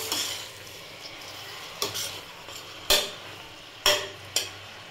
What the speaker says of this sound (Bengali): চিকেনটা দিয়ে হালকা নাড়াচাড়া করে নিচ্ছি।